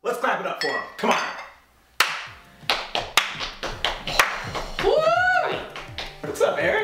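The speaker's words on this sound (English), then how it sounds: "Let's clap it up for him." A few sharp, scattered claps from a small talk-show audience welcoming a guest in a studio, loose and uneven, mixed with voices and brief gaps.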